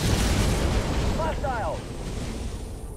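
Grenade blast in the Halo Wars real-time strategy game, a loud rumbling burst under dense battle noise, with brief whistling tones fading after it.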